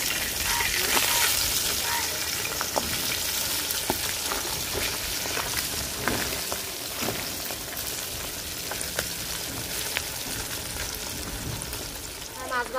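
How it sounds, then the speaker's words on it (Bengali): Pabda fish frying in hot oil, a steady spattering sizzle with sharp pops and crackles throughout, with rain-like hiss in the background. "মাছ এক পিঠ ভাজা হয়ে গেছে, এখন উল্টাই দিব, আরেক পিঠ ভাজা হয়ে বল লাগে আর কি"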